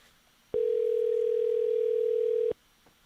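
A steady telephone tone sounds for about two seconds, loud and unbroken, starting and stopping abruptly with quiet room noise on either side.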